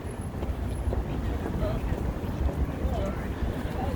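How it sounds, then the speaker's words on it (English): Heavy wind buffets the microphone with a continuous low rumble and roar, steady throughout, outdoors in cold downtown Chicago in February, with no clear voice. "now it's getting real windy over here"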